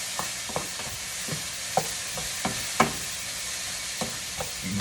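Onions sizzle steadily in a hot pan while a utensil stirs and scrapes them, producing a series of distinct clacks at an irregular rhythm over the constant frying hiss.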